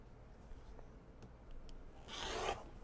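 A zipper is handled while an upcycled obi is prepped for sewing, giving a few faint taps and rustles before one loud, short zipping rasp near the end.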